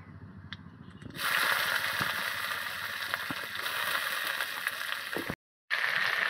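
Chopped onion hits hot oil already crackling with panch phoron, setting off a loud, steady sizzle that swells suddenly and then keeps hissing close by, broken only by one brief silence.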